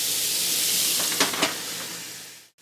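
Chuck steak sizzles on a George Foreman smokeless grill, a steady bright hiss of frying meat with a few crackling pops, close and unbroken until it cuts off abruptly at the end.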